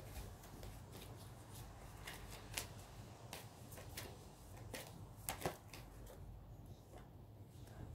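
Tarot cards shuffled by hand, a steady papery riffle with a few sharper snaps, close and fairly quiet over a low hum.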